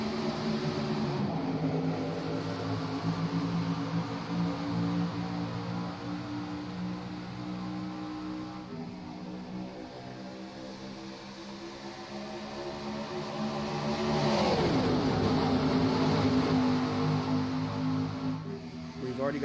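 Xfinity Series stock cars roar at Atlanta Motor Speedway at the green flag, a dense, sustained engine drone with a pack swelling louder as cars pass close, under a commentator's voice.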